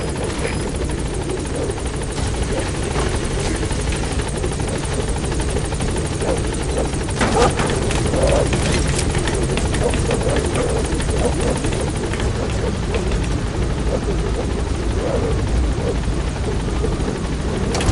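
A helicopter in the video game Metal Gear Solid 5 arrives at a landing zone, its rotor thudding loudly and steadily throughout, up close.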